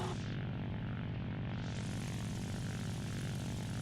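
A maneuverable propeller plane in War Thunder drones steadily, with a dense low engine rumble and broad airy whoosh that shifts slightly in tone as it flies.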